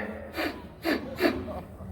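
A preacher giving an Islamic sermon imitates sniffing through the nose with his voice, making three short breathy sniffs spaced apart, close and clear.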